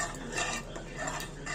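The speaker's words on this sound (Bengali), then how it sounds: "দিয়ে ভালো করে নাড়িয়ে নেব।" Caramelized sugar is stirred in a pan over a lowered flame, giving soft scraping and light clinks of a utensil against the pan in a short continuous burst.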